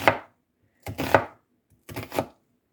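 Knife chopping food into strips on a cutting board, three separate bursts of quick close cuts with short pauses between.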